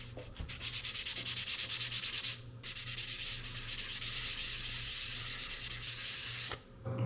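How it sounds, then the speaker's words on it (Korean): Fine 1500-grit sandpaper scrubs a plastic headset in fast back-and-forth strokes, a bright rhythmic rasping that pauses briefly twice before stopping at the end. "1500방짜리 사포예요. 이걸로 여기 있는 상표부터 해서 여기 도포해줘야 되는 곳을 어느 정도는 입자가 거칠어지게 만들어 놓겠습니다"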